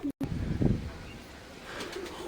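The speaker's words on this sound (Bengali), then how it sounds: "দেখুন উপরে কবুতর উঠছে" Fancy and Madrasi pigeons in a home breeding loft give a soft, low coo, followed by faint chirps and light rustling under a quiet background.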